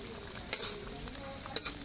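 Sliced chilies and torn kaffir lime leaves are stirred into a simmering pork and winter melon curry. There is a faint, steady bubbling and two brief scraping clatters of a utensil against the pot, with no talking.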